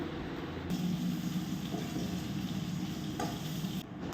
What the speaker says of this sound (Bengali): আবার এখন কচুটাকে আর হচ্ছে আলুটাকে ভাজতে লাগবে